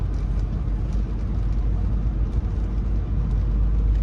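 Steady low road rumble from a Ford F-250 pickup towing a car trailer on a two-way city street, the engine and tire roar continuous and close with no pauses.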